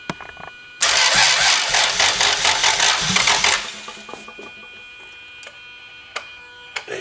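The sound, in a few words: 2JZ-GTE VVTi engine running, throttle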